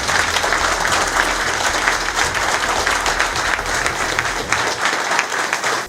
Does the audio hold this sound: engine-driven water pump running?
no